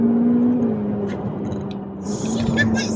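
Track-spec Ferrari F8 Tributo pulling hard through quick seven-speed dual-clutch gear changes, a steady loud engine drone heard from inside the cabin with a brief dip at a shift and a voice exclaiming near the end.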